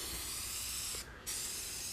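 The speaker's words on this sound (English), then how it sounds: "I'm going to take some of this this varnish spray and just spray all around it." Varnish spray can spraying all around a skull and onto wood for mold making, a close steady aerosol hiss that briefly stops for a moment before resuming, with no talk.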